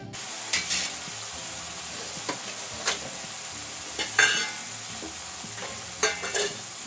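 Chutney frying in a little oil for a methi and bombil dish, a continuous soft sizzle punctuated by several sharp, louder stirring scrapes at irregular moments; no voices.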